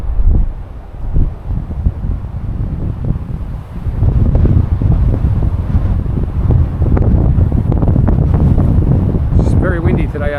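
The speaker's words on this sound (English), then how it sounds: "It's very windy today over here" Strong wind buffets the microphone at Tower Hill near Koroit, a rough, loud roar that gusts and surges through the whole stretch, swelling harder in the second half.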